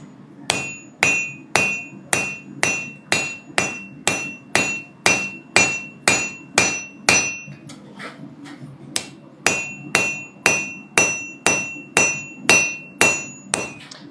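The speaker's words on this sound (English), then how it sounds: "I actually just got a new hammer that's perfect for this." Blacksmith's hammer striking hot metal on an anvil with a new crossbeam hammer, giving loud, ringing blows in a steady rhythm of about two per second and a brief pause near the middle, no talking.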